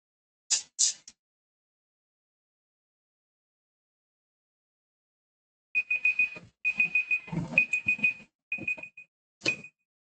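An electronic timer beeps in a short burst at first, then after a long silence rings in repeated rapid beeping bursts, clear and close in a quiet room.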